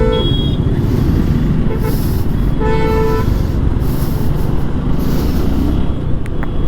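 Heavy road traffic rumbles nearby with a deep continuous engine drone, while trucks blare several loud horn blasts, including a long sustained honk and a later stuttering one, over the steady roar.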